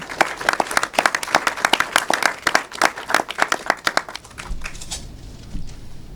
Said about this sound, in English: Please give them a warm aloha and round of applause to Nelson Higa, Austin Higa, and their accom